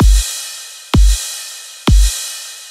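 Three loud electronic kick drum hits from a slap house track, evenly spaced about a second apart, each a deep punchy thump with a long bright hissy tail ringing out between them.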